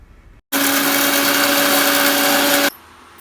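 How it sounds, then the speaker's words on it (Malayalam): A mixer grinder whirs loudly for about two seconds as it pulverizes dry-roasted mutton masala spices, a steady high motor whine that starts and stops abruptly. "നമുക്കിനി മിക്സി ജാറിലേക്കിട്ട് നന്നായി പൊടിച്ചെടുക്കാം"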